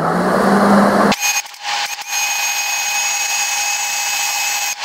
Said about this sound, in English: Now we can just pull the trigger and it'll feed right out the MIG gun.